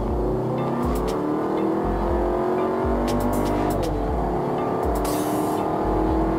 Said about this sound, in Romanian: Deci încercăm să-i dăm de la 0 la 100, vedem în câte secunde.